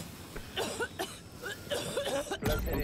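A character in Rainbow Six Siege coughs repeatedly in short rough bursts, several coughs in an uneven rhythm, close and moderately loud.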